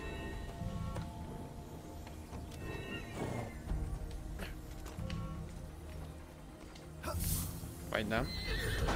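In Immortals Fenyx Rising, a winged horse whinnies and snorts amid game music and effects, with someone talking over it throughout.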